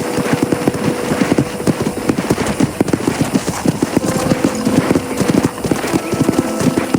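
Horses' hooves clip-clop steadily at a ranch corral in the Red Dead Redemption video game, a dense, close rhythm of hoofbeats with a brief whinny among them and faint talk underneath.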